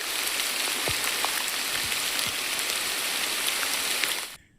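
Heavy rain pours down outdoors in a dense, unbroken hiss of drops. A few sharper spatters stand out near the end, just before the sound cuts off abruptly.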